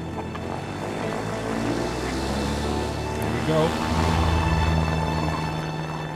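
Propeller airplane engine in the video game A Way Out, a steady droning hum running throughout and swelling slightly near the end, with game voices talking over it.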